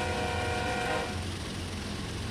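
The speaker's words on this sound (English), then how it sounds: "And we'll honk the horn." Norfolk Southern ES44AC locomotive horn in Train Sim World 2, a sustained multi-tone chord sounding loud for about a second before cutting off, leaving the steady rumble of the diesel engine underneath.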